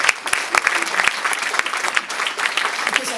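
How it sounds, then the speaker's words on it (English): An audience at the 2017 ServiceIQ New Zealand Museum Awards applauds in a dense, sustained wash of clapping from a large crowd, steady and fairly loud throughout the short stretch, with a faint hint of voices beneath. "everyone deserves a big round of applause for all the efforts"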